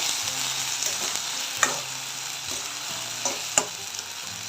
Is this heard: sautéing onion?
yes